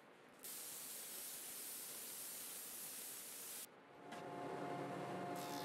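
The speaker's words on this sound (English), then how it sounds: "here I'm spraying the drawer dividers." Loud, steady hiss of a spray gun applying Polycrylic finish to van cabinet drawer dividers in two long bursts, separated by a short pause, close by with no talking.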